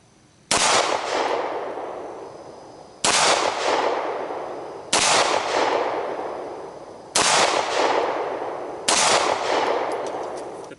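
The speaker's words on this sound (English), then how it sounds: "Next up we have Magtech through the Beretta at 12 yards." Five 9mm Magtech FMJ rounds fired one at a time from a Beretta pistol at an outdoor range, each loud sharp crack followed by a ringing decay, spaced about two seconds apart.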